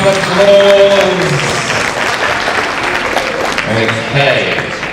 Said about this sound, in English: Excellent, give yourself a round of applause.